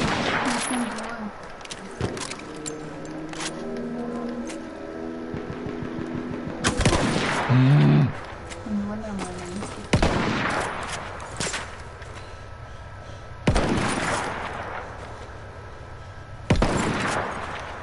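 Battlefield 1 multiplayer gunfire on PS4: sharp single shots and short bursts scattered over a steady battle din, some loud and near, others fainter, with occasional voices underneath.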